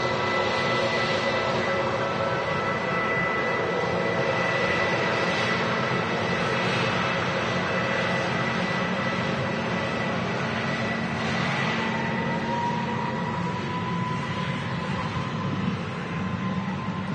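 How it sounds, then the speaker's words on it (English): easyJet Airbus A320neo departing Manchester Airport for Sharm el Sheikh, its engines giving a steady loud roar with sustained tonal whines layered over deep rumble, constant from start to end with no talk. "This will be the easyJet heading off to Sharm el Sheikh in Egypt. A320 Neo."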